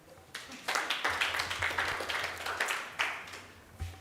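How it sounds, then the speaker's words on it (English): A business expo audience claps together in a crowd, the sharp overlapping claps rising suddenly and holding steady with a few louder accents for several seconds. "Clap for yourself."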